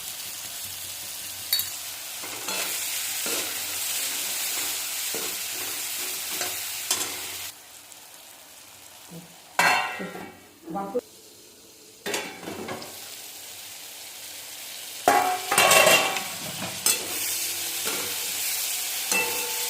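Gosavali (paroso dodka) vegetable frying in oil as red chili powder is added, with steady sizzling broken by repeated scraping stirs of a spoon against the pan, close and moderately loud with no talk.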